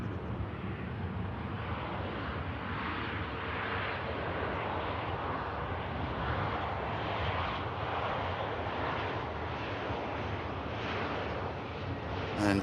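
A SunExpress airliner touches down at Manchester Airport, its engines giving a steady, moderately distant roar that swells and rumbles with wind buffeting across the whole stretch.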